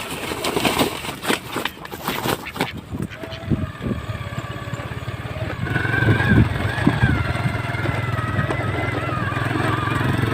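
A motorcycle engine runs outdoors on a rural road in Passi City, Iloilo, Philippines, first under busy clattering noise, then settling into a steady, fairly loud drone in the latter half.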